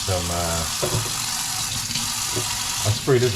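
Tap water running into a kitchen sink while it is being cleaned before preparing oxtail, a steady close splashing rush, with someone talking over it.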